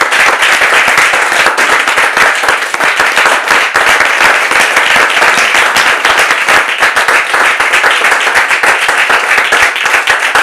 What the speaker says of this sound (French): avec des applaudissements, s'il vous plaît